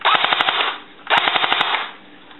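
Speedy Toys M16A4 airsoft rifle firing on full auto: two rapid bursts of sharp, clattering shots at close range, each burst a quick string of evenly spaced reports with a brief pause between them.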